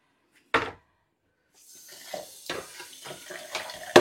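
A kitchen tap runs into the sink while dishes are washed after a family Easter dinner, a brief clatter followed by steady running water and occasional knocks of pots and plates close by.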